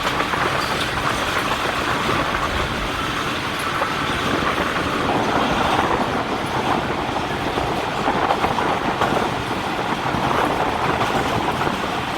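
Passenger train on the Jaffar Express running on rails as it approaches Gujranwala station, a loud continuous rumble with rhythmic clatter from the wheels, heard from on board with no talking.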